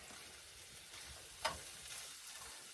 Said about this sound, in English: I'll saute all these up.